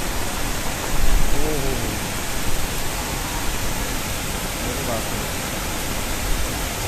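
Savdav waterfall in Sindhudurg roars as a dense, steady rush of falling water, loud and close, drowning out everything else, with faint voices of people talking under it.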